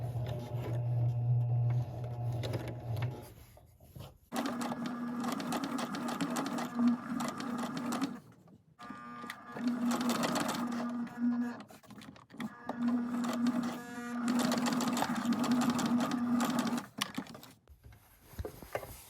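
A Kenmore 385 series sewing machine sews a blind hem stitch with a blind hem foot, running in three steady whirring bursts separated by brief pauses. It is close and fairly loud, with a quiet hum before it starts.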